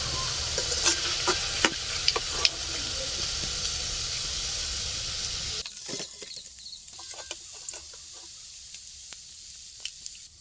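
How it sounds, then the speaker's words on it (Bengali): River shrimp pakoda fritters sizzle and hiss in hot oil, a steady frying crackle with occasional sharp pops, loud at first and then quieter and sparser. "এগুলো আমি আগের বারের মতো ওই 7-8 মিনিট ভেজে নিয়েছি, এবারে নামিয়ে নেব।"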